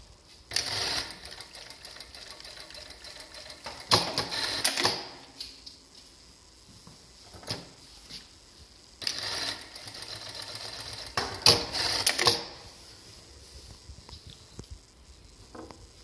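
A Jack A5E industrial lockstitch machine stitches a seam in several short whirring bursts separated by quiet pauses, close and fairly loud, with light clicks between runs.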